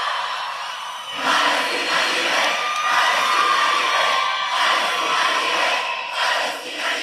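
A large crowd at a pro-Palestine street demonstration with many flags roars and cheers loudly and continuously, swelling in after the first second with scattered shouts and whoops rising above the mass of voices.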